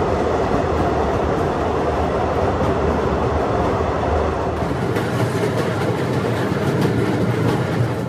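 A train rumbles loud and steady through an 11-kilometre railway tunnel on the Banihal snow route in India, a dense continuous roar of wheels and carriages with no break and no voices.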